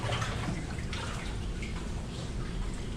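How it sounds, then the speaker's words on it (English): Deep inside the abandoned Spider mine, flowing water gives a continuous low rumble that fills the space, steady and broad with no breaks, with no voices over it. "I'm going to stand still and listen to the rumble of the water."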